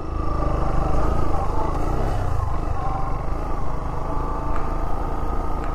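A motorcycle rides through mud on a road near Seropédica; its engine drones steadily and loudly throughout with a rough, clattering texture and no pauses.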